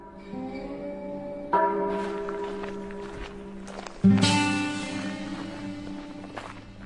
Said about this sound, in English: They say the funeral bell rang continuously.